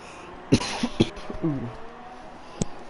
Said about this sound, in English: that cough's coming in now